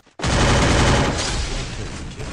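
Sustained burst of rapid automatic gunfire from the Free Fire video game, loud and dense from start to finish after a brief silent lead-in, with no talk over it.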